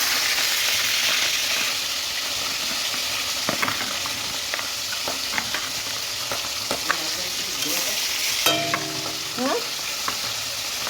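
Fish frying in a pan with oil: a steady loud sizzle throughout, dotted with sharp crackles and pops, and a brief voice speaking once.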